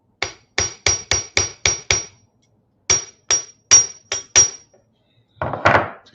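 A ball-peen hammer texturing a metal piece on a steel block strikes about a dozen sharp, ringing blows in two close rhythmic bursts, followed by a brief scraping rub.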